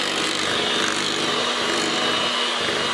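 An electric mixer beats German chocolate cake batter in a bowl, producing a loud, continuous motor whir with a rough, even texture throughout.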